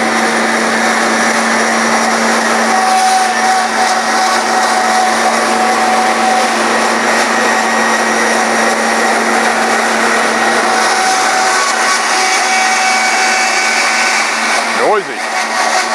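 A Model 480i saw cutting into a plastic tote, a steady loud whine that holds throughout with a faint tonal hum, close and continuous, with a brief dip near the end.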